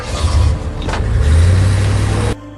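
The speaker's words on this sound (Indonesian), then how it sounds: "kemudian ia tancap gas dengan mobilnya." A car accelerates in an action film scene, a loud rising engine roar with a brief whoosh, cut off abruptly near the end.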